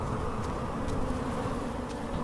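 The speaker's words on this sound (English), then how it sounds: "What's up with all the flies?" Insects buzzing in the video game Submerged: a steady, dense drone of flies that runs unbroken throughout, fairly close and alone, with no talk.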